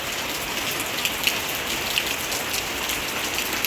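Steady rain falls in sunshine and patters densely on surfaces close by, with occasional sharper drops tapping through the even wash of sound.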